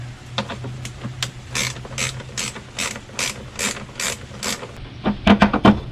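Ratchet wrench loosening the 10mm nuts on the engine cover of a 2011 Toyota Tacoma, a close series of sharp clicking bursts that quickens into fast clicks near the end.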